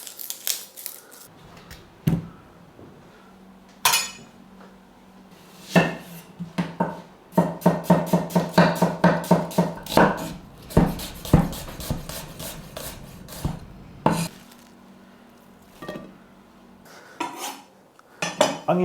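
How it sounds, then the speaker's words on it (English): Knife chopping on a board while six onions are peeled and sliced for sage and onion stuffing: sparse knocks at first, then a fast run of close, sharp cuts, slowing to scattered taps near the end. "I've got 6 onions that I'm going to peel and slice."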